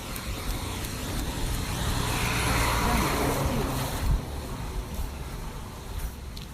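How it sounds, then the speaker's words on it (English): A noisy car passing on a road, its broadband engine and tyre rumble swelling to a peak midway and then fading away, over steady traffic background with no talk. "Here comes noisy car number 2."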